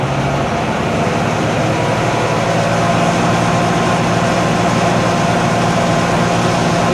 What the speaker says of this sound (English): Watch how much louder and quicker the tractor gets.